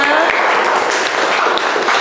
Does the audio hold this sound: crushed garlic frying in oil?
no